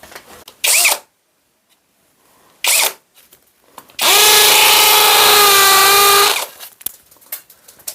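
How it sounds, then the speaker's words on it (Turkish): A hammer drill fitted with an 8 mm bit bores a hole for a wall plug while a chandelier is being installed: two brief revs, then a loud, close two-second burst of drilling, followed by a few small clicks. "çekiç kısmında bu darbeli kısmı 8 milimlik uç taktık"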